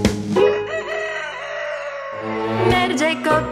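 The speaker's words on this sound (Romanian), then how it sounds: "Merge cocoșelul prin grădină." A cartoon rooster crows in a children's song, its sung, harmonic cock-a-doodle-doo calls rising over the musical accompaniment, with a clearer burst of crowing toward the end.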